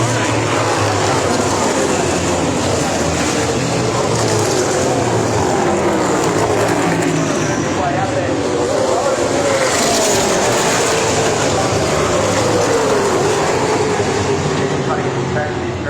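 Trans Am race cars run around Pukekohe raceway, their loud engines roaring continuously in a dense wash as they pass. The engine pitch shifts and sweeps throughout.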